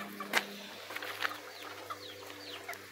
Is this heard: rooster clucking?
yes